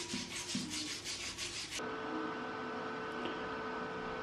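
Paint being stripped from a large Leinen 150F metal vise, a steady abrasive rubbing rasp with rhythmic strokes for almost two seconds, then a quieter continuous machine hum.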